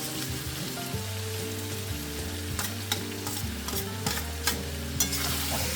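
Raw jackfruit and potato pieces sizzle in hot oil while being stirred and tossed, a steady frying hiss broken by light scraping clatters, close and continuous.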